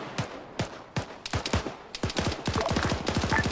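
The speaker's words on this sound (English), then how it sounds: "they're just shooting through the wall" Gunfire through a wall in the military shooter Arma 3: sharp, fairly close shots, first single spaced cracks, then faster bursts that build into rapid automatic fire toward the end, no voices.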